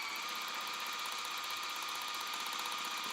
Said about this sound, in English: Again, sewing down those edges.